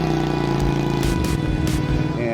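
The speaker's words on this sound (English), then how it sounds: "It's a beautiful motorcycle, sounds great." A KTM RC8R sport motorcycle ridden at speed at Daytona, its engine a loud, close, steady drone that climbs slightly in pitch, with no pauses.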